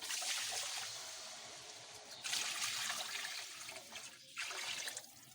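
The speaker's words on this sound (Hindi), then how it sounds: "इसमें तकरीबन 3 से 4 कप हम पानी डाल देंगे" Water is poured in bursts into a kadhai holding the paste for a shorba, giving a hissing, gushing splash that swells and pauses a few times, fairly faint and with no talking.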